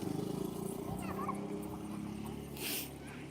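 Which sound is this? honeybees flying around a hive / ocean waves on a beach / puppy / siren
puppy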